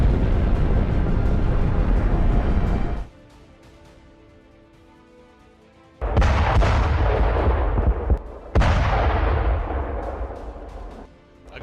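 Heavy explosion blasts and booming artillery fire, loud and close, come in three dense bursts separated by a low rumbling lull, the final blast trailing off slowly.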